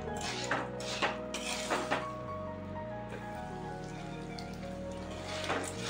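Popcorn kernels tipped into a pan of oil and stirred, giving soft scattered clinks and rattles at a low level, with a few sharper taps standing out.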